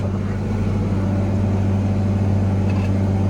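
Allis-Chalmers 8070 tractor pulling a subsoiler through compacted ground, its engine a loud, steady, close diesel drone with a heavy low hum that holds even throughout, with no talking.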